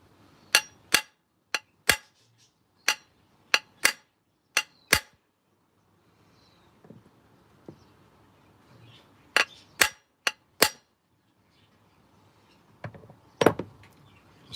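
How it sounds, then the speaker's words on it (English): Sharp metallic hammer taps while straightening a bearing into a Stihl 026 chainsaw crankcase come in quick clusters of single blows, close and crisp, with quiet gaps and faint handling noise between bursts. "so I'm just going to get my hammer."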